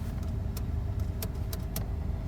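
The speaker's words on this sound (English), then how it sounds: "we're just going to drive the car normally. I'm going to put it in a normal automatic drive," A Nissan 4x4 with a bogging-down-under-load problem drives in normal automatic drive, its engine a steady low rumble from inside the cabin, with a few light clicks and rattles over it and no talking.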